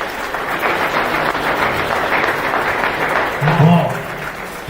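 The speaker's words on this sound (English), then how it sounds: "Let's keep clapping." Audience clapping at a hybrid international university conference on contemporary issues, a steady dense patter through the whole stretch with voices talking over it near the end.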